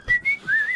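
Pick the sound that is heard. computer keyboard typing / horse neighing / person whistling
person whistling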